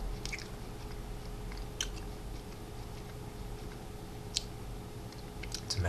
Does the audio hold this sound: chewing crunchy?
yes